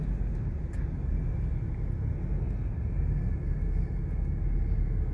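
Steady low road rumble fills the inside of a moving car in light midday traffic in San Juan, a continuous engine and tire drone that stays even throughout with no voices.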